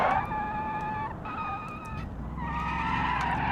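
Tyres skid with a loud, wavering screech as the brakes lock up going into the first turn in the BeamNG driving game, squealing in several sustained bursts over a steady engine drone.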